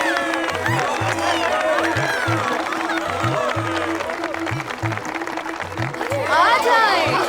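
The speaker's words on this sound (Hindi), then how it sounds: "तालियां बजाएं।" Applause from a stage audience, a crowd clapping steadily while chatter and a loud rhythmic music beat run underneath, swelling near the end.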